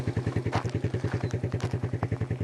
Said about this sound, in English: That's Jeff's tractor.